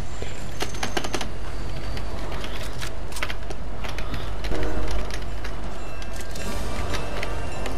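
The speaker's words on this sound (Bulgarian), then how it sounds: "не искам повече да се движа с този влак" Train moving in the video game Fortnite, a constant heavy rumble with rapid clattering clicks in bursts, loud and unbroken throughout.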